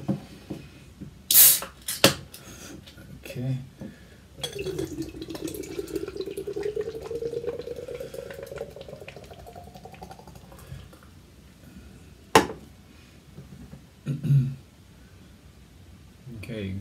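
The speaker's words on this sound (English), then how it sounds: "you shake it a little bit, give it a hard direct pour, and then wait a minute" Nitro banana beer from Nara Brewing, shaken a little and poured hard straight from a can, makes a steady frothy rush that builds for several seconds and then settles, with brief knocks before it and a short spoken word afterward.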